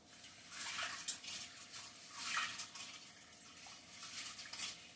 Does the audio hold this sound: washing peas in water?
yes